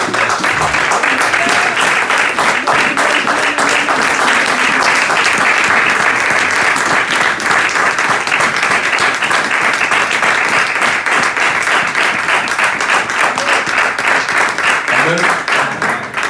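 A church congregation at a Sunday service applauding, sustained loud clapping from a crowd lasting throughout, fairly close and dense, with some voices mixed in.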